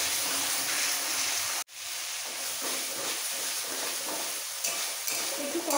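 Ground cumin paste with dried and green chilies stirred and fried in oil for a katla fish curry, a continuous loud sizzle and hiss with scraping strokes and one sharp knock against the pan.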